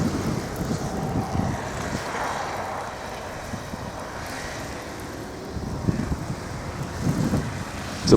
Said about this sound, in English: It's a blizzard, folks.